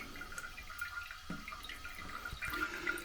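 Water trickles continuously from a running toilet tank into the bowl past a leaking flapper, a faint steady close hiss with small dripping, gurgling accents.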